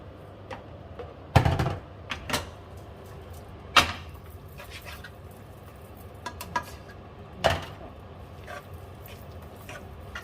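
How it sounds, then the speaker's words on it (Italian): Pasta tipped into a pan while making cacio e pepe, heard as a few sharp clatters and knocks of utensils against cookware scattered over quiet background, with light scraping between. "E ora andiamo a inserire la nostra pasta dentro."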